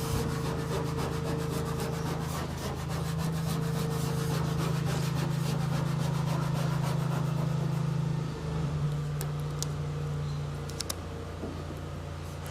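A stripe sticker on a Fury Sport GT is rubbed down by hand, making continuous close scraping and rubbing strokes over a steady low mechanical hum.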